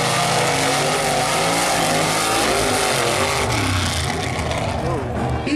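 Mud race cars at Stateline Speedway rev loudly and roar off the line together at the start, a dense, throbbing engine wall with an announcer talking over it.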